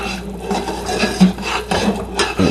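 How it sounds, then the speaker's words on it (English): Vanilla extract stirred into chocolate mousse with a utensil in a bowl, giving close, steady rubbing and scraping strokes with faint soft clinks, no talking. "We'll go ahead and stir that in"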